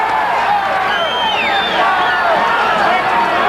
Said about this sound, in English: These kicks that you're hearing so much reaction from the crowd.